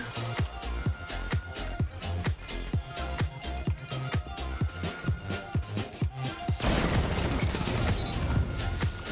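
Lord of Wolves shotgun firing in the video game Destiny, a rapid string of punchy blasts in steady rhythm, followed by a denser roaring burst near the end, loud and alone.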